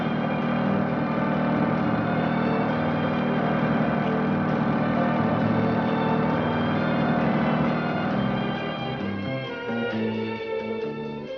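A small farm tractor engine from the early 1960s runs steadily, loud and close, with a droning harmonic hum that shifts slightly near the end.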